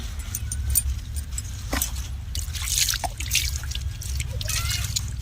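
Freshly pulled radishes are rinsed under water, with close splashing, dripping and knocking sounds that come in uneven bursts over a low steady background rumble.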